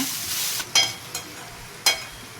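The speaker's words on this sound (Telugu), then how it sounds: "కట్ చేసి పెట్టుకున్న ఎల్లిపాయ ముక్కలు యాడ్ చేశాను అవన్నీ బాగా ఫ్రై అయ్యాక" Chopped onion pieces frying in a pan with tomato for a dried bommidala fish curry: a steady close sizzle broken by a few sharp stirring scrapes, no voices.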